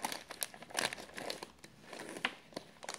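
A chocolate package is opened by hand, its wrapper giving close, continuous crinkling and crumpling with a few sharper crackles over about three seconds, and no one speaking.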